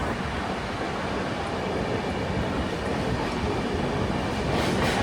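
The Uttarbanga Express rolls into platform 2 at Panagarh station, a loud, continuous rumble of wheels and carriages with a faint clatter building slightly toward the end.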